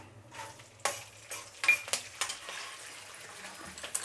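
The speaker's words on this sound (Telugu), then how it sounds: "ఇప్పుడు ఇది బాగా వేయించుకోవాలి." Spices for vangi bath frying in a pan, soft sizzling broken by sharp spoon scrapes and clinks against the metal pan.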